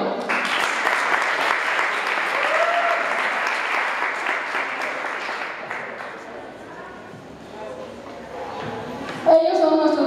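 An audience applauds teachers at an IDEP event in Yahualica. The clapping is loud and sustained for several seconds, then fades, and voices and other sounds take over near the end.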